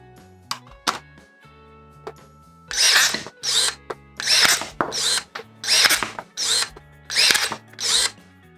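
Procraft cordless battery pruning shears bite through a 31 mm garden branch, the motor whirring in about eight loud, close bursts of roughly half a second each, separated by short pauses, with fainter clicks before them.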